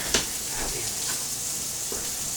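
Burger patties for a shepherd's pie burger sizzling in a pan, a steady close frying hiss with a small tap near the start.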